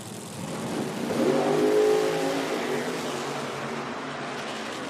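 A nitro drag racing car making a pass at an IHRA outlaw nitro event, its engine roaring loudly and rising around the second mark before holding as a steady, distant drone.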